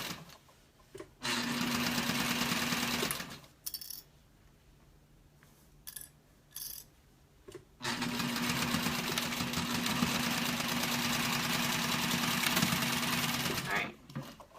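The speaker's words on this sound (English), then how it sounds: "Back stitch when I hit those heavier seams" A sewing machine stitches through heavy seams in two long runs separated by a quiet stretch of short, stop-start bursts of back stitching; close and steady.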